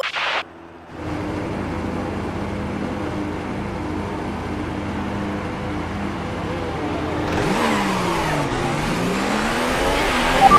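A Formula 1 car's engine in F1 2018 revs steadily through a practice start, holding a high, buzzing drone before climbing in pitch and surging louder as it accelerates away, with no talk over it.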